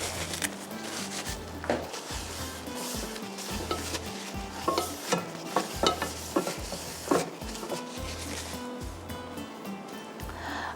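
Hot oil sizzles steadily in a pan while a chicken green-chili gravy cooks, with repeated close scraping stirs and clinks of a utensil against the pan over the constant frying hiss.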